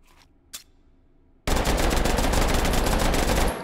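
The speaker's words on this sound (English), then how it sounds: "amount of bullets being spit out by this thing" Automatic weapon fired in the VR shooting game Hot Dogs, Horseshoes & Hand Grenades: after a couple of faint clicks, a loud sustained burst of rapid gunfire runs for about two seconds, close and dense.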